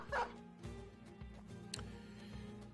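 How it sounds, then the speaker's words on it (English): War dogs barking in the Battle Brothers video game's Blazing Deserts setting: a few short, fairly faint yips and barks over battle music, with no talk. "Got to release a dog to buy us time."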